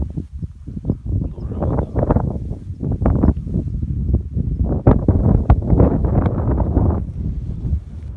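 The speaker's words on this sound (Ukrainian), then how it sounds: "У нас далі вітер прохладно" Loud gusty wind buffets and rumbles continuously on cold, snowy Mount Hoverla (2061 m) in Ukraine, surging and falling in heavy blasts close to the microphone.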